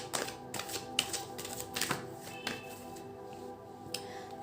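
Tarot cards being shuffled and handled during a reading, giving a run of soft, close papery taps and flicks in an irregular rhythm, quiet and alone with no talking.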